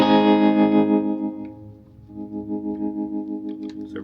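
An electric Jaguar guitar on its neck pickup with a warm, mellow clean jazzy tone plays sustained chords, one strummed chord ringing out then another with a gentle wavering shimmer.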